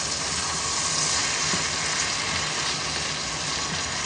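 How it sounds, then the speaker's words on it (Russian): Soy sauce, black pepper and garlic frying over high heat in a home kitchen pan, a steady dense sizzle that holds loud and even throughout with no talk. "Я жарила на высоком огне, сейчас я немножечко огонь убираю."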